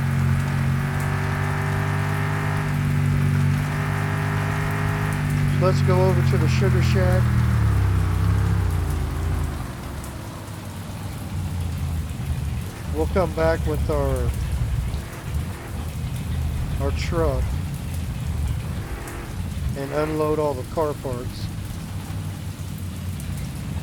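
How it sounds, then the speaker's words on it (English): Steady, heavy rain with rumbling thunder in the video game Mon Bazou, a continuous hiss over a low vehicle engine drone that fades after the first several seconds, while someone talks intermittently over it. "it's been raining since yesterday"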